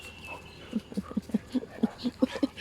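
A playful dog gives a quick series of short, soft, low barks in an even rhythm, fairly close, over a quiet background.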